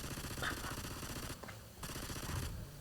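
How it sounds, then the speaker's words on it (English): Rapid, continuous Uzi automatic gunfire bursts rattle loudly, with brief gaps between volleys, like a machine gun sound effect. "So let's give it a Uzi sound."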